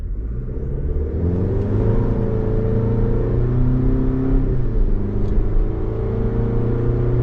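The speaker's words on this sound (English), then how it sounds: "Great pickup out of this Turbo Max Inline 4." A 2024 GMC Canyon AT4 pickup with a turbocharged inline-4 and 8-speed automatic accelerates from a stop, a steady engine rumble building in pitch from inside the cab, with no talk.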